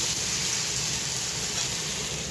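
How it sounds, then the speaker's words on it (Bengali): Black cumin seeds, turmeric and salt fry in hot oil in a kadai, giving a steady, dense hiss that stays even and unbroken throughout, with no voices. "এখন কালো জিরা ফোড়ন দিয়েছি,"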